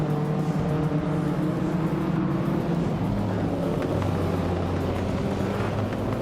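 Race cars driving in a racing video game, among them a 1985 Toyota Celica Supra, a continuous loud droning engine roar with steady humming tones throughout.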